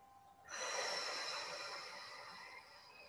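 A long, steady breath pushed out during a Qi Gong exercise, starting abruptly and then fading slowly, soft and close with no talking.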